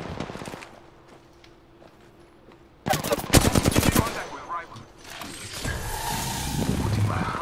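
Bursts of automatic gunfire in the Apex Legends video game erupt after a quiet stretch, rapid and loud, followed by continued gunfire and game noise in the background.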